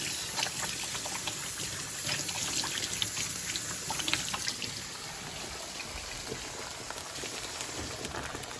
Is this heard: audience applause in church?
no